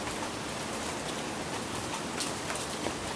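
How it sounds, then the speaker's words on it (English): Steady rain falling, a dense even patter of drops filling the whole stretch without pause. "And it's still raining."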